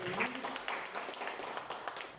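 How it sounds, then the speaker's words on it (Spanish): An audience gives a round of applause, a faint patter of scattered hand claps with a few sharper individual claps standing out over a low room murmur. "Así que démosle un aplauso."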